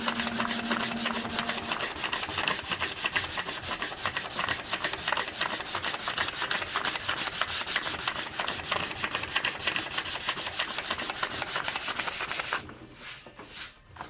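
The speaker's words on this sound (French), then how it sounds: "après cette réparation, il suffit de poncer." Sanding a repaired plastic part by hand, a continuous close rasping rub with fast back-and-forth strokes that runs steadily before stopping near the end.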